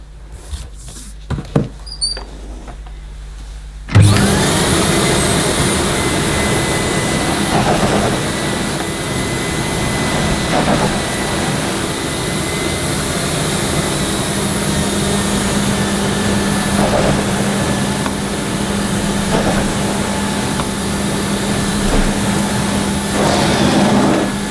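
A vintage Miele S224 vacuum cleaner with an electro head runs on max power over new plush carpet, starting abruptly after a few seconds of quiet handling clicks, then holding a loud, steady roar with a faint whine throughout.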